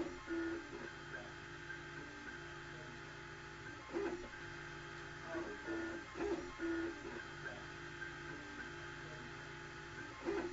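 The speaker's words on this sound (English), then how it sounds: "In here we have the 3D printer." A desktop 3D printer printing parts for a Liberator firearm, its stepper motors whirring and chirping in repeated short bursts over a steady electrical hum, heard close in a quiet room.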